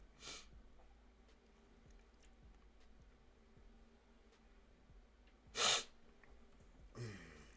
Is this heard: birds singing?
no